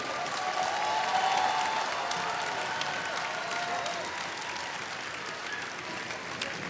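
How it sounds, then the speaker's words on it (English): A large crowd at a FIRST robotics state championship gives the judges sustained applause, dense clapping that peaks early and then holds at an even level. "let's give the judges a huge round of applause for all their hard work"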